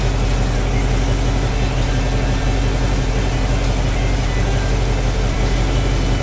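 A Corvette's engine and exhaust run steadily at idle in sport mode, a loud, constant low rumble throughout with no pauses.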